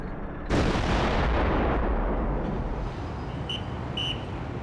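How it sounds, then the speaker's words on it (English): Artillery fire in the 1967 Six Day War: one sudden heavy blast that rolls into a long rumbling boom and slowly fades, loud and close, with faint high chirps near the end. "He orders his artillery to make the earth shake."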